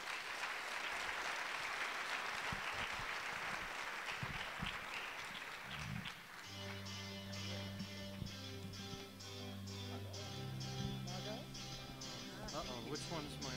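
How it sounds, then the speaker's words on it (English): Award ceremony audience applauding the presenters of the Shining Light Awards at a journalism conference, dense clapping for about six seconds before it fades and a voice and music take over. "Round of applause for them."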